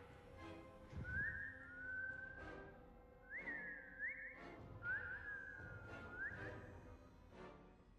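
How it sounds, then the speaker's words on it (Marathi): An eerie whistle from a horror story rises and falls in three or four drawn-out phrases. It sounds moderately close over a low, murky background rumble, with no talking. "त्याच शिट्टीचा आवाज येतो."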